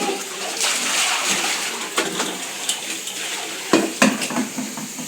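Water runs from a household tap into a pot with splashing and occasional clinks of vessels, steady and close.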